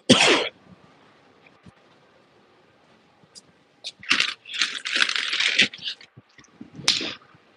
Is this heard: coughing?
yes